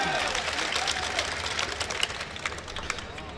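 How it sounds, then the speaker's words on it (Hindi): Audience applause at a mushaira poetry gathering in Kurla, Mumbai, a dense, steady wash of clapping from a crowd, fairly loud and continuous throughout with no voices standing out. "अगर आया तो एक बार तालियां बजाकर बताइए मुझे।"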